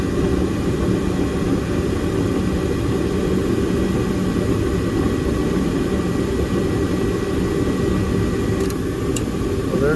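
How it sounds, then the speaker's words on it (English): A furnace's second blower is running during a pressure switch repair, giving a loud, steady broadband whoosh of air that holds unchanged throughout with no talking. "there goes the second blower. So now it's blowing through the house."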